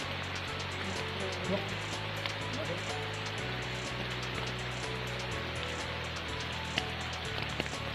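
Steady rain falls outdoors on a valley walk, a constant hiss of drops that runs through the whole stretch without a break.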